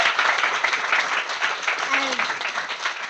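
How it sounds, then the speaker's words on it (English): An audience at a women-in-tech celebration gives a steady wash of dense applause, continuous and moderately loud, with a brief voice faintly audible through it. "So another round of applause, please."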